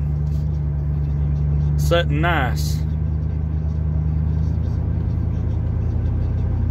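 A lifted four-wheel-drive Chevrolet Z71 with a 5.3 liter engine, off-road tires and a Cherry Bomb exhaust idles with a steady, close, deep rumble throughout, and a voice speaks briefly over it.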